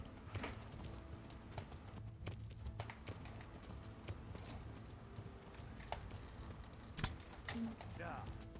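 Horse hooves in the medieval video game Kingdom Come Deliverance II, irregular clip-clopping strikes amid game ambience and scattered clicks.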